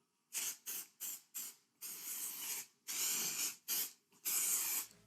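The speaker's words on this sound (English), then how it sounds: "What I normally do is spray this down, let it sit for about 5 minutes" Mold release spray hissing in a series of bursts, short puffs followed by longer sustained sprays, close up with no voices.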